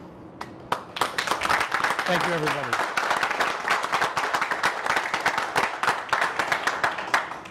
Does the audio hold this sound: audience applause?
yes